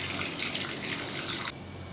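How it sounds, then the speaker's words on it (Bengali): Water pours steadily into a pan holding sauced chicken Manchurian base, a close rushing stream that stops abruptly after about a second and a half, leaving quiet behind. "এই রকম পর্যায়ে দিয়ে দেব পরিমাণ মতো জল।"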